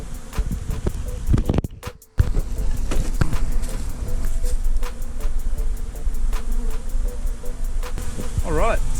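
A wild bee swarm being moved from a catch box into a bee hive, a dense, continuous close buzzing with occasional louder passes of single bees, a brief break near the start, and wooden boards clunking.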